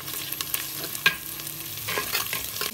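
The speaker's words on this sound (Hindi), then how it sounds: "अब इसमें एक टेबलस्पून हम अदरक लहसुन का पेस्ट ऐड करेंगे, इसको दो तीन मिनट हम पकाएंगे।" Ginger garlic paste frying with onions in a pan for Punjabi mutton kunna, a steady close sizzle with stirring scrapes throughout and one sharp clink of a spoon against the pan partway through.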